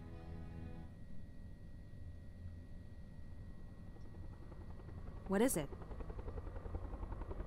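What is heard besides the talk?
helicopter sound from video game Alpha Polaris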